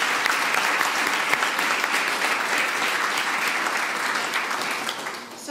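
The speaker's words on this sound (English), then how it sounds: "So I think they all deserve a huge round of applause even before we start." A large audience at an annual medical college excellence celebration gives a sustained round of applause for faculty promotions, a steady, full wash of clapping from many hands that holds evenly and then starts to fade at the end.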